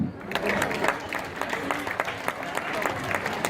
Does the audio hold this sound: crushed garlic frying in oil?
no